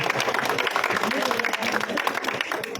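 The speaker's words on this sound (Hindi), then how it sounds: "जोरदार ताली एक बार पूरे।" A crowd at an outdoor welcome ceremony for a legislator bursts into dense, steady clapping that runs throughout, with a voice faintly audible underneath.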